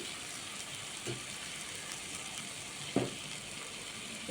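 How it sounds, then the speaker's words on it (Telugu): Water added to a pan of frying chicken pieces for wheat rava chicken dum biryani, giving a quiet continuous sizzle with a couple of short knocks from the pan. "సో ఇప్పుడు ఇందులో మనం వాటర్ పోసుకుందాం."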